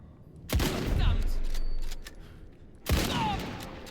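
Two loud bursts of gunfire from the video game Indiana Jones and the Great Circle, each a sudden sharp blast followed by a rumbling decay, separated by about two seconds of quieter background.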